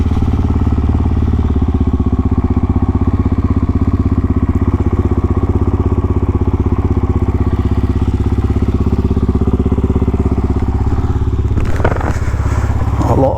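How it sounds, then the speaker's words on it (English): Motorcycles, including a Suzuki DRZ400, rumble steadily at idle nearby in a quiet village, with a clattering thump near the end. "I'm not sure what they'll think of all these bikes turning up today though."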